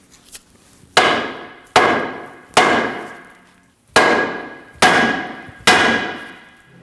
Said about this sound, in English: We're going to strike the bottom of the control arm on either side to free up the ball joint.